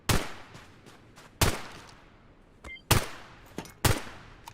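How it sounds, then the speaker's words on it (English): Assault rifle fire in a video game cracks out as four or five loud, sharp shots with uneven gaps between them. Each shot rings briefly before the next, with no talking. "Let's switch over to the assault rifle."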